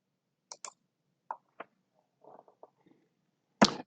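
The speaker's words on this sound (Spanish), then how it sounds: "vamos a teclear unos términos de búsqueda" A computer keyboard clicks as search terms are typed, sparse light keystrokes spaced irregularly in near silence, ending with a louder final tap.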